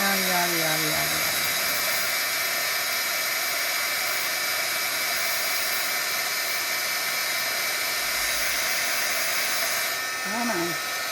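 A hair dryer drying something runs continuously and loudly up close with a steady high whine, while a voice speaks briefly near the start and end.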